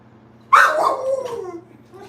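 A single dog lets out a sharp, close yelping bark that trails into a whiny, falling whimper, standing alone over a faint low hum.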